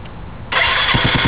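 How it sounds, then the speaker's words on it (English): A Suzuki GZ250 motorcycle engine cranks and fires, jumping from quiet background to a loud, steady running roar about halfway through, with pulsing low exhaust beats near the end; no one talks. "start the engine"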